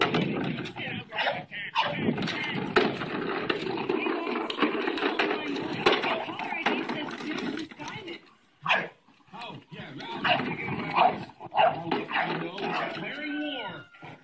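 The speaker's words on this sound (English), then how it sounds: "A video of a dog and a toy truck." A dog barks and yips repeatedly while playing with a toy truck, with people talking over it throughout and the barks sometimes standing out between the voices.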